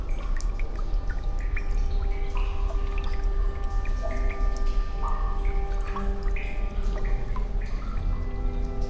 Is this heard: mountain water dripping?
yes